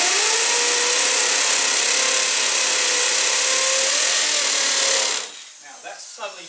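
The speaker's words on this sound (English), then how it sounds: "You would have noticed that I was drilling and it suddenly jolted." A power drill bores into a brick wall with a loud, steady high whine for about five seconds, then cuts off abruptly, leaving quieter irregular sounds.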